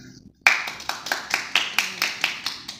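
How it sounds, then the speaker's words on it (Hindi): People clap for a family Ramadan special segment, with sharp, evenly spaced claps at a steady moderate pace, close and fairly loud, following a brief quiet moment. "बहुत बहुत सारी तालियाँ।"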